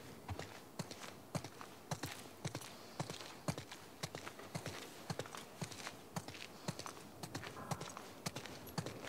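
Horse hooves clip-clopping at a walk in The Last of Us Part 2 Remastered, a steady even rhythm of fairly faint, moderately close hoofbeats with some light ambient noise behind and no talk.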